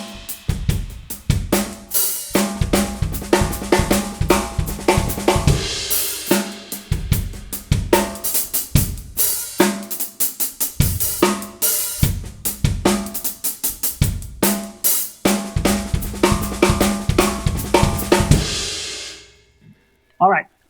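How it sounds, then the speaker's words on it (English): Drum kit working through a halftime groove that breaks into fast 32nd-note sticking fills across snare and toms. Dense, loud and continuous, with steady kick and cymbal wash, stopping abruptly near the end. "I'm going to play a halftime groove."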